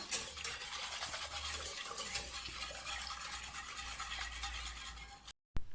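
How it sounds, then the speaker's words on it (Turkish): Muhallebi, a Turkish milk pudding, stirred continuously in a pot as it thickens on the stove, giving a steady close-up scraping swish with a low simmering rumble underneath and no voices. "Karıştırmayı hiç bırakmadan muhallebi kıvamına gelmesini bekleyeceğim"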